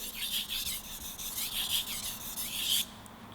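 A hard stainless steel knife is sharpened on a Gesshin 1200 grit splash-and-go whetstone, with rhythmic close rasping strokes back and forth, about a dozen passes, then a stop, no talking.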